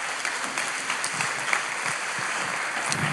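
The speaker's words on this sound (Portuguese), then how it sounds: "Podem bater palmas" Church congregation claps together, a steady, fairly soft sustained round of applause with scattered individual claps standing out and no talking on top.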